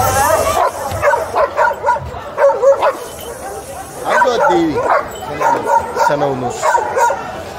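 A guard dog for sale at a Cairo dog market barks in a quick run of yips and bow-wows, loud and close, in two bursts broken by a short pause, while people talk around it.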